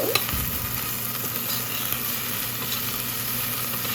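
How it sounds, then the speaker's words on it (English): A pan of sofrito with green chili for an Indian dal palak spinach lentil curry, frying in a steady, dense close sizzle that holds evenly throughout with faint stirring underneath. "that's our sofrito cooking"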